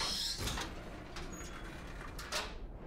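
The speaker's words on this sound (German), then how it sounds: "Vielleicht kann die Tür da hinten irgendwie auf und zu machen." Doors creak and thud open and shut inside the video game Experience 112, a couple of distinct muffled bursts standing out over a steady low hum, with no voices.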